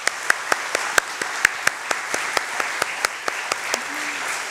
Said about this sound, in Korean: 축복의 박수, 또 격려의 박수로 함께